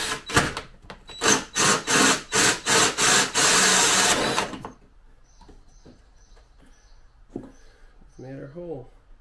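A power drill whirs in a rapid series of short bursts, drilling an exit-port hole in the hull of a 1996 WaveVenture 1100 jetski, then runs in one longer continuous burst before cutting out, leaving faint handling noises.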